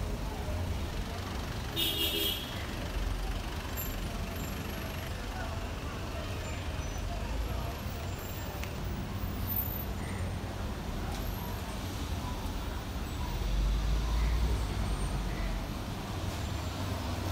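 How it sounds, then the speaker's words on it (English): Street traffic congestion in front of a mall in a Yangon neighborhood: a steady, dense rumble of idling and creeping vehicles with occasional horn toots, continuous and moderately loud throughout. "Quite traffic jam in front of the mall."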